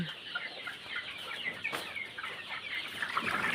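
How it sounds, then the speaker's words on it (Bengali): A flock of about 500 large chickens in a poultry shed keeps up a dense, steady chorus of overlapping clucks and chatter throughout, with no one speaking. "এই যে বড় মুরগি"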